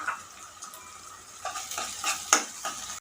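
A utensil stirs and scrapes in a pan while chopped tomato and onion sizzle faintly underneath, with a few sharp metallic clinks.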